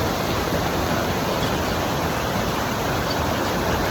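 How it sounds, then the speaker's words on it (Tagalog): Steady, loud broadband rush of water fills the whole stretch without pause, like heavy surf or churning waves close by. "Ayan, lakas ng alon dyan."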